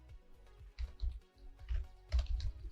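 Quick, close keystrokes on a computer keyboard come in small irregular clusters, soft clicks and taps typed in a quiet room.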